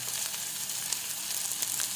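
Sliced onions fry in a pan, giving a steady, soft, hissing sizzle with faint crackles through the brief moment, no voice present.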